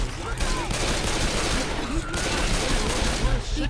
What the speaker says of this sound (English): I didn't mean to shoot you. It's also fucking loud.